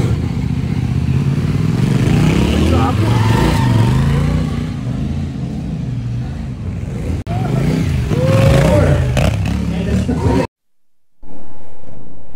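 A CF Moto 450NK motorcycle rumbles steadily nearby during a slow-race ride, its engine note rising and easing with throttle, a brief clatter midway and a sudden cutout near the end.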